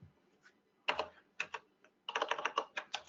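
Typing on a computer keyboard while correcting a typo in code, with bursts of close, crisp key clicks in quick irregular runs and short pauses between, no voice over it.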